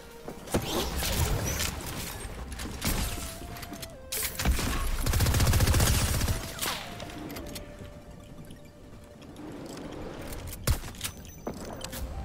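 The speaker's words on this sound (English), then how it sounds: "We're just gonna push people anyway with our glider gun." A glider gun fires in the Fortnite video game, with bursts of rapid gunfire, sharp impacts and mechanical clicks, loud and up close, separated by brief pauses and interspersed with electronic game tones.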